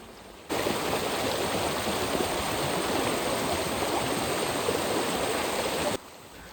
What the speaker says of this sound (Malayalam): വെള്ളം ഒഴുകി വരുന്നൊരു ഭാഗമാണ്